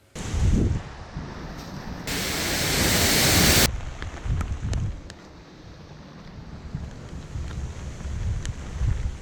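Hurricane Nicole blows hard against a covered car outdoors, with roaring gusts and heavy wind buffeting on the microphone, rising to a sustained loud rush before easing to a lower turbulent rumble.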